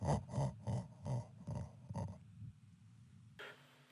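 A voice, pitch-shifted by moving its spectral lines and resynthesizing, comes out as a strange, buzzy, gurgling garble in rhythmic bursts, then a thin, brighter tail at the end.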